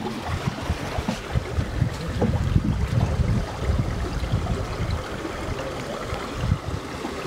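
Water flowing over the travertine terraces at Pamukkale, a steady broadband rush and trickle that is close and moderately loud, with no talk over it.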